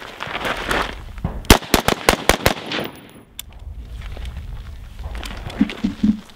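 Rifle shots fired at a target on a defensive pivot drill at a shooting range: a rapid burst of about seven loud, sharp cracks in quick succession, followed by a lone shot and quieter ambient noise.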